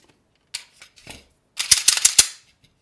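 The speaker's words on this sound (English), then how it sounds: "So when you're pulling the trigger, you are cocking it," Arex Delta X Gen 2 pistol striker action cycled by trigger pull: sharp, close metallic clicks, a few isolated snaps followed by a rapid cluster of mechanical clacks in a quiet room.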